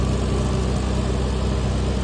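An IH Farmall tractor engine chugs steadily nearby, a loud, continuous low rumble with an even throb, heard alone without speech.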